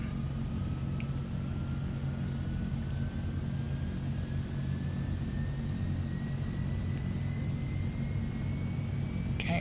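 Steady drone of a Transall C-160 turboprop engine idling just after a cold start in Microsoft Flight Simulator, a constant low rumble with a thin whine slowly rising in pitch, alone without talk.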